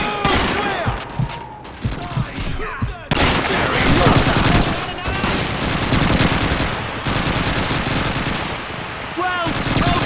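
Sustained machine-gun and rifle fire from Call of Duty 2, loud and dense, with overlapping bursts rattling continuously throughout and shouted voices mixed in.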